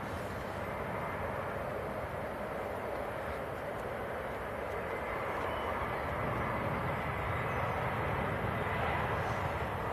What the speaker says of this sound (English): Next to land we've got Lufthansa coming in from Frankfurt, which is an A320 Neo, just about to